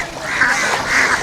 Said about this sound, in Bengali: দুইটাই দেশি হাঁস।